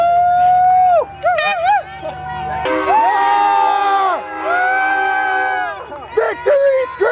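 Excited cheering and high-pitched whooping screeches from people riding in a truck at an outdoor senior parade, with overlapping voices and crowd noise, loud and close.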